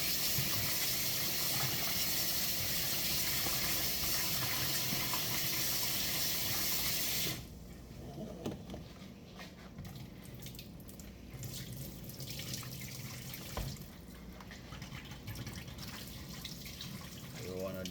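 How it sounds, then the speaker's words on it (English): Chicken gizzards are rinsed in a sink under a running tap, a steady broadband rush of water for about seven seconds, then quieter splashing, dripping and sloshing as the meat is swished in the bowl, with a voice speaking. "Clean up my gizzard properly. And I'm giving it a rinse, guys."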